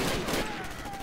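Gunfire in Call of Duty: United Offensive, the World War II shooter, crackles in a loud, busy layer of repeated shots through the whole moment with a thick game soundscape beneath.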